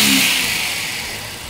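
A classic car engine fitted with Solex carburetors gives a short, close rev that fades from a throaty roar toward a lower, steadier running note.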